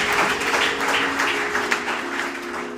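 A church congregation gives a sustained clap offering, dense continuous applause filling the room at a steady level, with a faint held organ or keyboard tone underneath.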